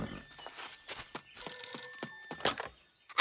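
A telephone rings in a French cartoon about horse riding, a few bright trilling bursts over soft thumps and shuffling, fairly close, with no talking.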